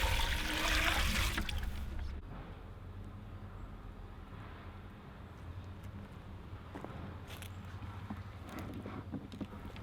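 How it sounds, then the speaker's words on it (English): Water from a hose splashes over freshly hulled black walnuts outdoors, a louder rushing burst first, then a steady, softer trickle and patter. "You can soak your nuts in a basin of water or hose them off."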